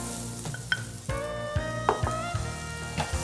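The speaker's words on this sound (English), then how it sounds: "Again, stirring it up." Risotto rice stirred in melted butter in a pan, with a spoon scraping in repeated strokes over a steady sizzle, close, with no one talking.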